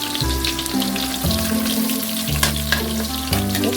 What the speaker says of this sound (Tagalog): unahin natin yung ating igigisa yung ating bawang